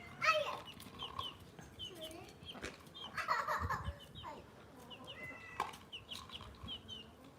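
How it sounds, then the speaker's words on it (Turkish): A rooster clucks quietly at home, with soft clucks and bursts of fowl calls over a low background, a few livelier moments in between and faint noises that could be animals moving. "bu horozunu verelim mi?"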